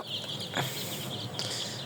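Chickens clucking in a flock where birds have been dying, a short, continuous murmur of nearby clucks with a couple of sharper calls standing out.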